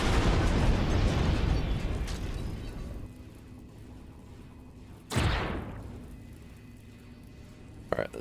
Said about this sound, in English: That one back there is dropping missiles underneath the thing and shooting me.